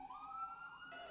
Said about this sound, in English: And here comes the first siren of the day.